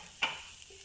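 Coconut, cashews, almonds, green chilli, ginger and garlic are sautéed in a kadai: a single quick spatula scrape over a faint, soft sizzle.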